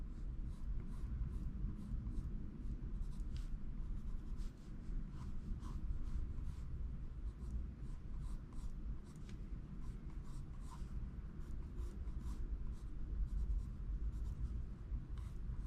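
A mechanical pencil glides across paper in steady, continuous scratchy strokes, heard close and quiet with small rhythmic ticks throughout and no talking.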